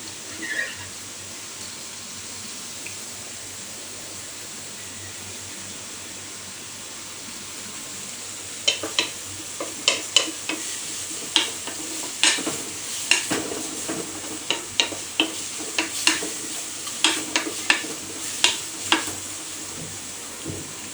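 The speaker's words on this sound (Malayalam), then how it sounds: "എല്ലാവർക്കും അറിയാവുന്ന പോലെ സവാള ഒന്ന് മൂത്ത് വരാനായിട്ട് വേണമെങ്കിൽ കുറച്ച് ഉപ്പിടാം." Sliced onions with salt frying in a pan, a quiet steady sizzle that turns into a run of sharp, rhythmic spoon scrapes and taps against the pan in the second half, close by with no speech.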